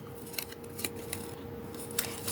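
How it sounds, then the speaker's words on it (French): Small scissors snipping around paper embellishments for a junk journal, heard as faint, irregular little cuts and rustles over a steady background hum. "je suis venue couper tout autour avec mes petits ciseaux"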